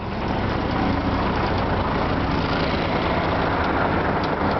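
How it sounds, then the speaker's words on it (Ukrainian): A truck engine idles at around 500 to 600 rpm while driving a power take-off hydraulic pump for a crane manipulator, a steady close, loud broadband rumble with no pauses and no talk. "там 500 чи 600 обертів мотор працює"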